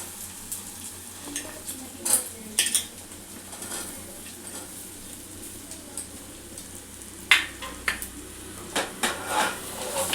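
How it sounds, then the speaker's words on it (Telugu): Cut spiny gourd pieces go into a pan with turmeric, giving a soft steady sizzle with scattered clinks and scrapes of a spoon stirring against the metal, close and fairly quiet. "ఇప్పుడు ఇక ఇవి కట్ చేసిన బోడ కాకరకాయలు వేసుకోవాలి"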